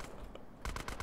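Gunfire in GTA San Andreas: faint scattered shots, then a quick burst of four or five rapid rounds in the final half second.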